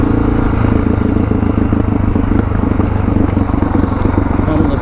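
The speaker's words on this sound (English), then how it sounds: "So engine braking down here in second." A Suzuki DR650 dirt bike engine braking in second gear on a mountain forest dirt road, a close, steady low engine drone with a throbbing pulse and faint wind, continuous throughout.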